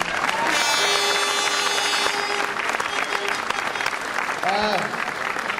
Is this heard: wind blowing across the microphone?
no